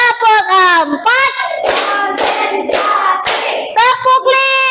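Children in a group clap out a counted routine at a church gathering, several crisp rhythmic bursts of clapping alternating with loud chanting voices nearby.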